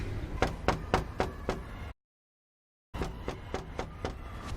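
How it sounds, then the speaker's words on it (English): Knuckles rap on a house door in a rapid set of five or six sharp knocks, then after a second of silence a few softer, scattered taps follow. "I guess we should knock. I'll knock"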